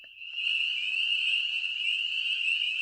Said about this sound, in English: I'm going to play you a peeper